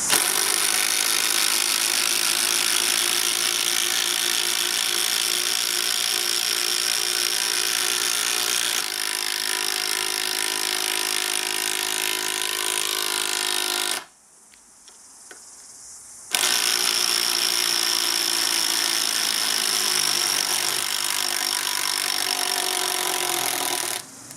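A brushed Makita TD110D and a brushless TD111D impact driver drive screws into wood with loud, continuous rattling hammering that stops after about fourteen seconds. After a short pause the hammering starts again.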